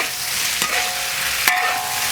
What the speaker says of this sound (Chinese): 来翻炒。